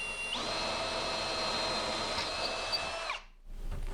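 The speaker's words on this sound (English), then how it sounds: "Okay, so we want to drill right through." A power drill bores through cabinet wood while a microwave is installed over a range, a loud steady whine holding for about three seconds before cutting off abruptly.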